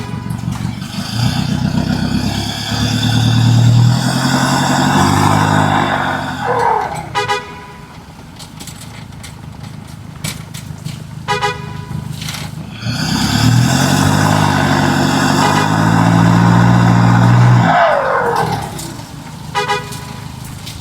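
A truck labours along a muddy forest road, its engine loud and steady in two long surges with a quieter stretch between, broken by horn-like toots.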